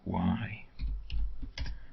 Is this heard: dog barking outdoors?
no